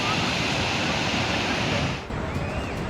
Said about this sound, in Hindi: देखो कैसे पानी बढ़ रहा है।